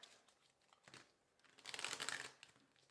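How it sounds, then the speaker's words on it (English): A deck of tarot cards being shuffled gives a quiet papery rustle that swells into a denser, crackling burst in the middle before fading, with no voices. "let us do a quick shuffle of this deck"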